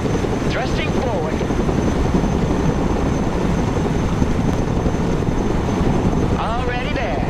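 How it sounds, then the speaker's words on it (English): Helicopter in the Broken Arrow military strategy game, a steady dense rotor and engine drone running unbroken throughout, with faint chirpy game effects near the start and end. "Let's go and recover it with our helicopter."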